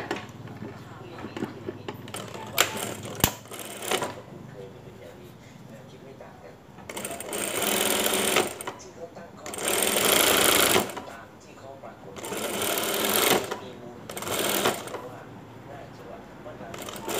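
A sewing machine stitches a dress in several bursts of running, each a few seconds long and separated by pauses, with someone talking in between and some light handling clicks.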